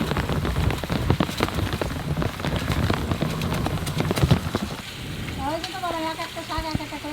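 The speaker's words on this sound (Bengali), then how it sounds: "এই বৃষ্টি চলে আসছে" Rain falls steadily during a rainy-season cooking session, a dense crackling patter of drops landing on a surface, with a voice speaking over it near the end.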